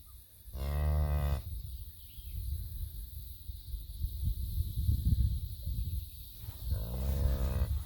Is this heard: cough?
no